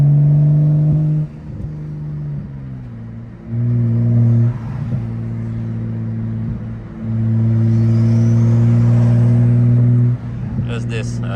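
A BMW E85 M535i with a turbo engine runs hard through repeated surges of acceleration, each strong droning pull broken by brief gear-change dips, heard from inside the car and loud.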